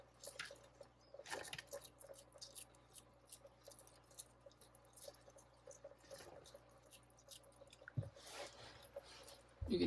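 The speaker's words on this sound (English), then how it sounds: "You can hear all the crunching" A bearded dragon crunches food from a naturalist food bowl in a run of faint, irregular, close-up crunches and clicks, with no talking.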